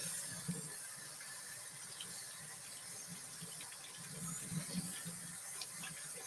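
A tap runs into a sink while hands are rinsed, a faint steady splash and trickle with soft gurgles and occasional squeaky rubbing, no talk.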